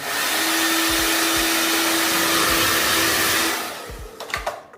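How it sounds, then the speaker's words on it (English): A hair dryer in a hotel room runs with a loud, steady whooshing roar and a faint whine, then switches off, leaving a few soft clicks and rustles. "This hair dryer is pretty good actually."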